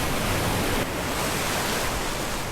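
Ocean waves washing ashore at a Palawan beach campsite, a steady broad roar of surf with no distinct breaks, close and continuous, carrying no voices.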